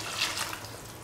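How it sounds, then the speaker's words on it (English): Water is poured into a cooking pot while making keto chicken and cauliflower rice, a brief, steady splashing hiss at close range with nothing else heard. "open and pour in 150 ml of water"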